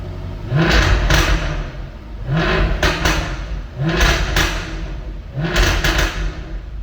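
A 2017 Jaguar F-Type R in dynamic mode revs to about 3,000 rpm and drops back four times in a row, each rise a loud, close swell with a mechanical clack at its start, then a settle to idle.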